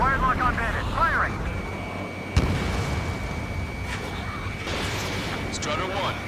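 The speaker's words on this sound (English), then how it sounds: "Strider 1, missile launched." A missile fires from a fighter jet in the combat flight game Ace Combat 7, as one sharp burst rising out of steady engine roar, with radio chatter running through the scene.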